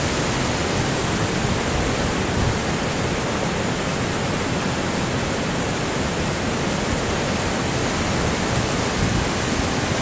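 Waterfall at Glen Canyon after a flash flood, a loud, steady roar of rushing water with no breaks, close and dominating throughout.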